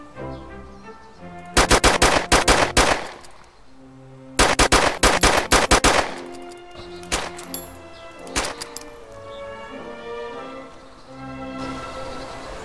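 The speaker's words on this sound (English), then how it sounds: "Well, I'll shoot you in the face." Gunfire in the video game DayZ: several rapid bursts of close, loud shots in quick succession, followed by a few scattered single shots against a steady background of game ambience.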